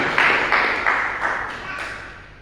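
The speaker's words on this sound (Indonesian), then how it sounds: "Tepuk tangan dulu bagi Tuhan Yesus" Church congregation clapping for Jesus during a Christian sermon: a steady burst of hand claps in an echoing hall, starting loud and fading gradually over a couple of seconds.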